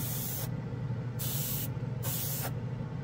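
A Testors Aztek airbrush spraying in three short bursts, each a bright airy hiss lasting about half a second, separated by brief pauses over a low room hum.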